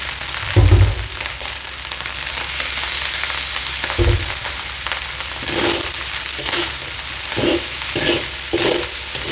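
Fried rice with ham, bacon and fresh shrimp being stir-fried in a pan, with a steady sizzle broken by repeated loud spatula scrapes and thumps against the pan.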